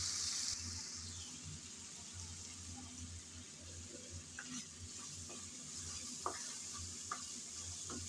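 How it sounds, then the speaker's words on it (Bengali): Spice paste cooking down in oil for a long-bean dish, a soft continuous sizzle with occasional stirring scrapes and light clicks from a utensil in the pan. "কিছুক্ষণ সময় নিয়ে মশলা কষিয়ে নিলাম।"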